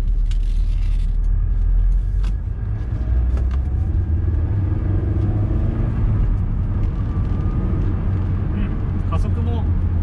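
A Honda S2000 AP1 sports car accelerates on a test drive, heard from inside as a loud, steady low engine and road rumble that fills the whole stretch without letting up.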